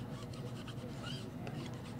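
A steady, faint rubbing scrape as Vintaj patina is scraped off a craft sheet, continuous and close without clear strokes.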